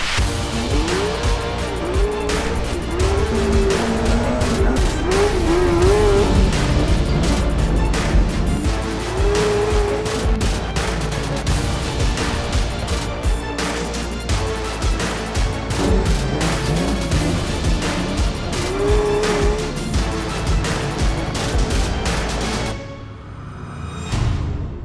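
Go-karts race around a track with a loud, continuous engine whine that rises and falls in pitch as they accelerate and brake. Occasional tire squeal cuts through before the noise drops off sharply near the end.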